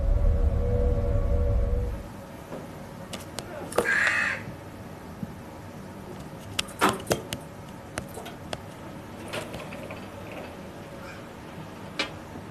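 Wild crows give a few scattered, sharp caws, one clear call standing out among fainter calls and clicks over a quiet outdoor background, with a low rumble at the start.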